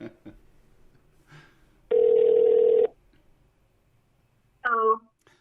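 An outgoing phone call rings through: after a few soft clicks, one loud, steady ringback tone lasts about a second, then a short electronic warble follows.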